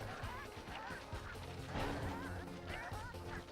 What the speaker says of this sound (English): We're just whacking chickens